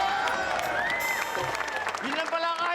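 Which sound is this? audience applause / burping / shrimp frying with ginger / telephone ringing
audience applause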